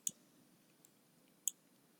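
Two sharp, isolated mouse clicks at a computer while building a circuit in simulation software, one near the start and another about a second and a half later, with a fainter tick between them against quiet room hiss.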